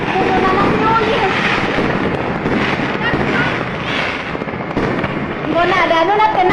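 A blaze at a stall selling firecrackers sets off a dense, continuous barrage of crackling and popping explosions, loud and close, with wind buffeting the microphone and excited shouting voices throughout.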